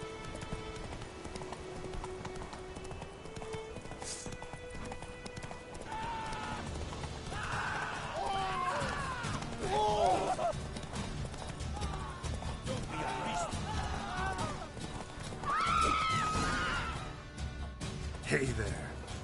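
Horse hooves clip-clop at a run in The Witcher 3, a steady galloping rhythm under game music and ambient effects, with voices speaking at times.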